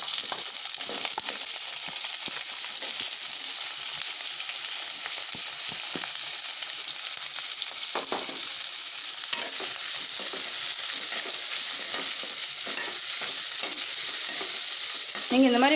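Steady sizzling of tempering spices frying in hot oil for paneer gravy, with scattered crackles and pops throughout, close and continuous.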